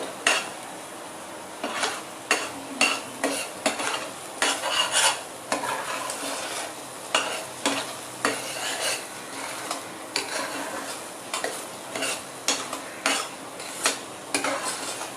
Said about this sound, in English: Just saute it well, this is the very important stage. Sauteing of your dessert.